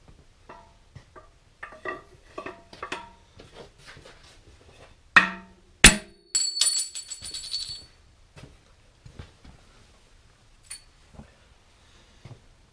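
An engine expansion plug on a Farmall Super M tractor engine is driven out with an old wooden dowel. Scattered light taps and knocks lead up to two sharp metallic strikes, then a brief rattle and some fainter taps.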